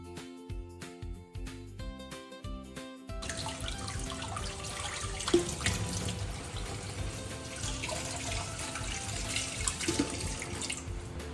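Tap water runs steadily into a sink while cured pork for homemade ham is washed, with splashing and handling under the stream; light music plays at the start and continues faintly in the background.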